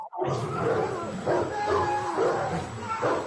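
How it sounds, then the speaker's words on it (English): Dogs or wolves bark and yelp in a steady, loud chorus, with overlapping calls rising and falling throughout over a dense noisy background. "Those are just dogs or wolves or something."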